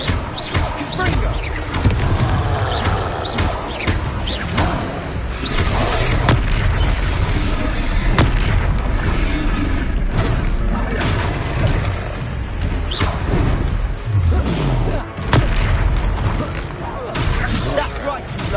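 Hogwarts Legacy combat: a Confringo blasting spell sets off repeated booming explosions with crashes and pops, loud and dense throughout, under shouted character voices.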